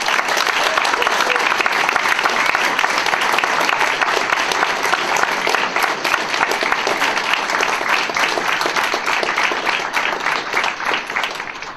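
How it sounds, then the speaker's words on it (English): An awards show audience breaks into sustained, dense applause that runs steadily for about twelve seconds, many hands clapping at once without pause. "So let's just have a round of applause for special effects for them."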